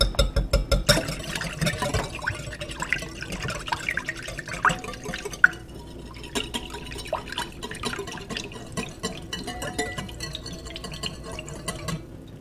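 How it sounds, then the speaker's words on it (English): Melted butter is whisked into batter for goat cheese popovers, a quick irregular clinking and sloshing of a whisk in a bowl, close up and steady throughout, with no talking. "I'm going to whisk that all up"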